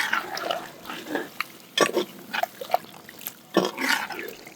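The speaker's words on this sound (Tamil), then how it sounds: "நம்ம கொஞ்சம் கிரேவியாக வேண்டதுனால இன்னும் ஒரு அரை டம்ளர் அளவுக்கு தண்ணி சேர்த்துக்கோங்க." About half a tumbler of water is poured into a simmering chicken and jackfruit curry, giving irregular close splashes and trickles with a few sharper bursts.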